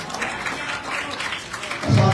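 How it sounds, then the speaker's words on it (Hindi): At a children's spiritual camp, a group claps to honour a girl's perfect attendance, an even wash of many hands held at a moderate distance and swelling a little louder at the close. "इसके लिए विशेष तालियां।"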